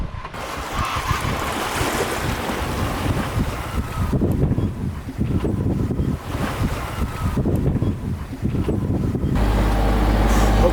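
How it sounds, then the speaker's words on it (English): Strong northwest wind roars across a sailboat running under jib with the motor off in the Strait of Juan de Fuca, loud buffeting gusts mixed with rushing water and waves alongside the hull. "nice wind out of the northwest, just pushing us home"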